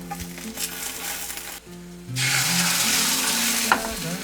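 Beaten egg being fried into a rolled omelette with a sausage tucked inside, a close, steady sizzle that swells louder partway through, with faint stirring and pan sounds.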